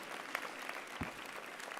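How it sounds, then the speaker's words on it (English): An audience at a graduation ceremony claps in a brief, steady patter of applause that sounds fairly distant and subdued. "Shall we give a big round of applause to all those that supported you?"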